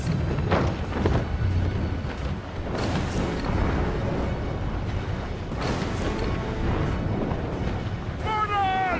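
Deep ship cannon booms in the video game Assassin's Creed Rogue Remastered roll out repeatedly amid a dense, noisy naval battle din against fire ships, with shouting voices mixed throughout and a brief musical flourish at the end.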